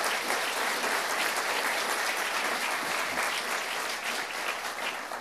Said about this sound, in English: Let's give Corinna another round of applause.